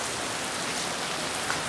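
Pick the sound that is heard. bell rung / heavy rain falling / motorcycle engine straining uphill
heavy rain falling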